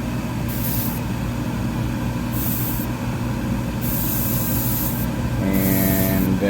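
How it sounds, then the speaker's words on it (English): An airbrush sprays Gaia Notes Ultimate White paint onto plastic model kit parts, giving repeated hissing bursts over a steady compressor hum, with a louder stretch near the end. "Then you're going to spray a white on top of it."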